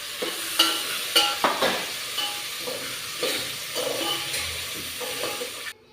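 Spices crackle and sizzle in hot oil, tempering for beetroot stir-fry, with sharp pops and spits over a soft frying hiss, close by.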